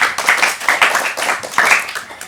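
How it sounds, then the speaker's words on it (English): Steady clapping from a group of people, a brisk continuous patter of hands over a couple of seconds, fairly loud and close. "clap for yourselves."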